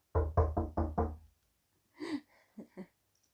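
Five firm knocks rap on a wooden door in quick even succession, close and crisp, followed by a soft breath and a few faint light taps in an otherwise quiet room.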